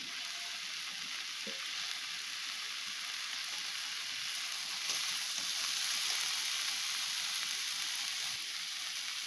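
Chopped tomato going into a hot pan of spiced masala for a banana-flower curry, giving a steady, close frying sizzle that swells slightly midway and holds without a break, with no voices.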